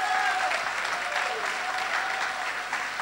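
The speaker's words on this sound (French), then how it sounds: "Est-ce qu'on peut juste les acclamer et les applaudir très fort?" A church congregation cheers and claps loudly for its senior members. The applause is thick and sustained, with a few voices rising through it.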